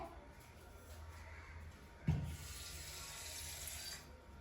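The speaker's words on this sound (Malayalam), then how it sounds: "ഇനി നമുക്ക് ഇതിനകത്തോട്ട് വെള്ളം ഒഴിക്കാം" A steady stream of water runs and splashes into a container, with a brief thump partway through; faint and continuous throughout.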